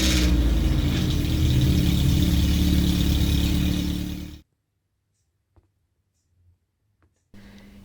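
An Alfa Romeo 33 IE 8V engine with a head gasket fault and oil leaks starts and runs loud and close for about four seconds, then cuts off into near silence before running again briefly at the end.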